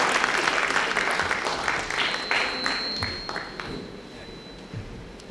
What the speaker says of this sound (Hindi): आप हजरात ज़ोरदार तालियों के साथ उनका इस्तकबाल करिए।